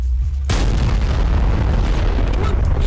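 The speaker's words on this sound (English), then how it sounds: "I take that explosion as a big no." A sudden loud video game explosion hits after a near-silent start, then a long, dense rumbling roar that keeps going to the end.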